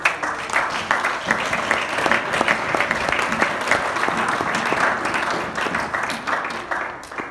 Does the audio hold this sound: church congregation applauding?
yes